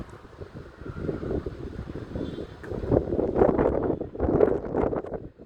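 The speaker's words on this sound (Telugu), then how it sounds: "ఫుల్ గాలి వస్తుంది, సౌండ్ వస్తుంది అనుకుంటా." Strong wind buffets the microphone in continuous, uneven gusts, a loud low rumble that swells and dips throughout.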